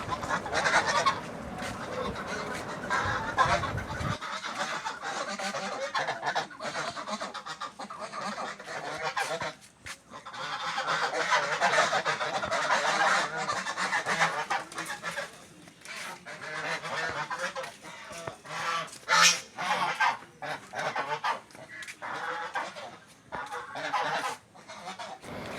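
Eight-month-old domestic geese (raja hans) honk repeatedly and loudly at close range, with overlapping calls and brief pauses over a long stretch.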